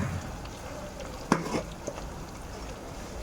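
Ginger garlic paste with turmeric frying in a pan, a soft steady sizzle with a few brief stirring clinks near the middle, fairly faint and close.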